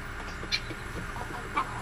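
Chickens clucking on a farm, two short faint clucks about a second apart over a steady background murmur.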